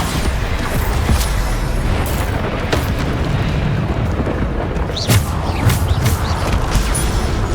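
Bombarda spell explosions in the PC game Hogwarts Legacy: loud, deep booms and bursts fired off several times over a dense bed of combat effects.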